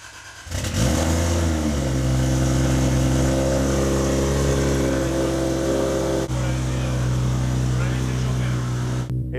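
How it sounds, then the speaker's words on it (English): A Subaru fitted with a 1000 HP 2JZ engine roars to life after cranking, then holds a loud, steady, throbbing idle with a deep droning tone close by, a slight shift midway. "let's let you listen to the sound of the car since it roars"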